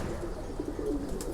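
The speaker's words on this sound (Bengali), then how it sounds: "এখানে সব মাদি কবুতরগুলো আছে" Female pigeons in a loft stock cage give soft, low cooing notes over a murmuring background of rustling and ambient noise.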